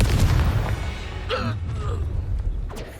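A Confringo spell explosion bursts during combat in the Hogwarts Legacy video game, a heavy low boom rumbling under short effortful vocal grunts and creaking magical effects, fading over about three seconds.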